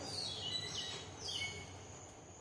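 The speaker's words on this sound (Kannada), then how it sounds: "ಹಕ್ಕಿಗಳ ಚಿಲಿಪಿಲಿ ಸೌಂಡು ಕೇಳಿಸ್ತಾ ಇದೆಯಾ" Faint, high-pitched bird chirps repeat in the distance over a low, steady outdoor hum.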